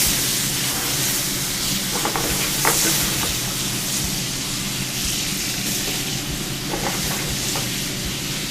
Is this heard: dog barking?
no